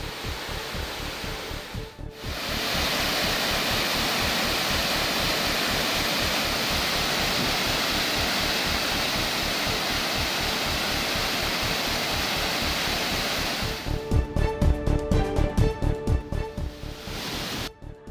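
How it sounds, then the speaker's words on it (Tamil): Water roars down the Kumbakkarai waterfall after heavy rain in a loud, steady rush, with a brief dip near the start and a rougher, pulsing surge toward the end. "கும்பக்கரை அருவியில் தண்ணீர் ஆர்ப்பரித்து கொட்டுகிறது"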